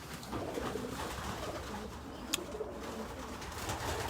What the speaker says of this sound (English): But we're just showing you the pigeons, guys.